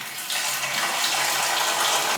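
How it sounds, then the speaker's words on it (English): Warm tap water runs into a Pinter home brewing device in a loud, steady, close-up gushing stream with no break and no speech. "we're filling up the Pinter with water up to the red mark"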